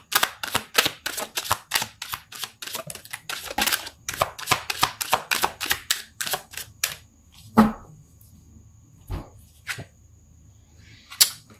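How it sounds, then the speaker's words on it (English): Tarot cards being shuffled and drawn: rapid crisp card snaps and flicks ripple in a fast run, then slow to a few isolated taps and slaps as cards are laid down, close by. "going to pull some more cards"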